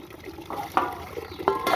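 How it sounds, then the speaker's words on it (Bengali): Water runs from a tap in a short, continuous splashing stream with a few louder gushes, close by and at moderate volume. "জল আছে জল থাকে এরকম জল পড়ছে"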